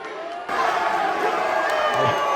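Fans at a wrestling show in Port St. Lucie, Florida burst into loud cheering after a quiet moment, the crowd noise swelling and holding with scattered shouts.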